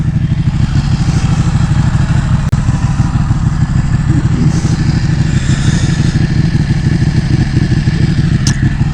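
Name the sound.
Ducati Panigale 1199 motorcycle engine running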